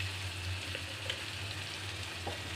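Whole spices and ground coriander with cumin paste sizzle steadily in hot oil for a Bengali rui fish curry, a close, continuous hiss with faint stirring clicks and no voices.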